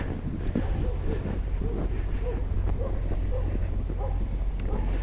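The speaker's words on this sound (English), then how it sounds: "doggy's barking" A dog barks repeatedly outdoors near the Capitol grounds, the barks fairly distant and steady beneath strong wind rumble on the microphone.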